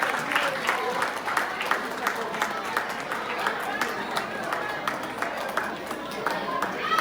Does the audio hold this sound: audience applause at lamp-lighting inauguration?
yes